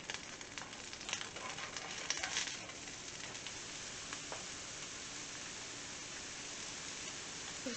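Sheepshead fish fillets cooking for tacos, a soft, steady hiss of sizzling with a few faint crackles, fairly quiet and with no talking.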